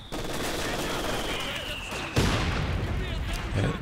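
Machine gun fire crackles in a Company of Heroes 2 4v4 battle, with sustained rapid bursts, then a louder, harsher stretch of gunfire and blasts. Someone talks over the whole exchange.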